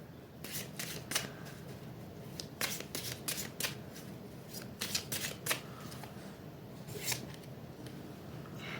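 Tarot cards being shuffled by hand, close and crisp, with repeated quick riffling flutters over a soft background hiss and no voices.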